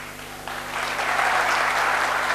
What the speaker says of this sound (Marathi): तुम्ही टाळ्या का वाजवल्यात मला सांगा